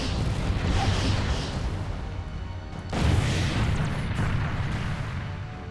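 Explosion blows a cannon off an enemy ship in the space strategy game Sword of the Stars, a loud booming, rumbling blast that swells again midway and sustains across the clip, alone without talk.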